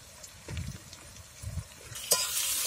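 Tomatoes frying in a pan with onions and green chillies for a Bengali egg curry, giving a soft, steady sizzle with a few louder stirring bursts, rising to a brighter hiss near the end; no talking.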